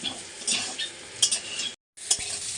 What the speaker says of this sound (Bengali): আর এখন পেঁয়াজটা দিয়েছি, পেঁয়াজটাও প্রায় লাল লাল করে ভাজা হয়ে গেছে।